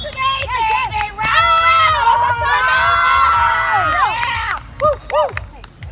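A college water polo crowd at a Carolina venue cheers and shouts loudly during a timeout, a sustained roar of voices with high-pitched yells near the end.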